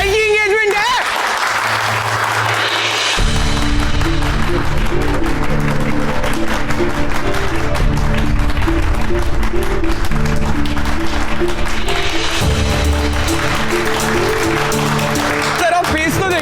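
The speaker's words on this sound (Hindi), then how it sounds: "अरे यार ताली बजाओ, मेरे भाई की एंगेजमेंट है।" Guests at an engagement party applaud steadily while music plays beneath, the clapping continuing throughout at an even, moderate level.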